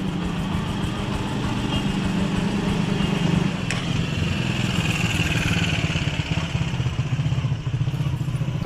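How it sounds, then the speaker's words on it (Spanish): Honda Discover 125 ST motorcycle from 2024 running in Lima, Peru, a steady close engine drone with faint clatter, continuous throughout at fairly even loudness. "prendeme mientras se prende la moto"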